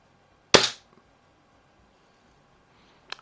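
A single sharp, loud crack from a Daisy BB gun firing at a target, decaying quickly into quiet, followed near the end by a faint, brief click or second report.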